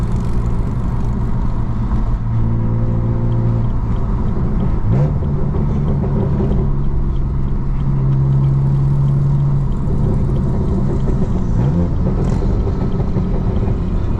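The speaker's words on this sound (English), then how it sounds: "The intake sounds sick." Manual BMW M3 engine drones steadily while driving, a loud continuous intake rumble with held tones that drop and shift at gear changes around five and twelve seconds.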